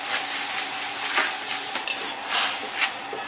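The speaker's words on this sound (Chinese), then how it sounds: "把那个豆芽、海带下锅先炒熟" Bean sprouts and kelp sizzle and hiss in a hot wok while a spatula stirs them, giving a steady bright frying crackle with occasional scraping strokes, close up and without talk.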